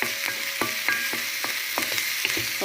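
Garlic fries in a pan for lamb sambosa, a steady sizzling hiss broken by rhythmic scraping stirs about every half second.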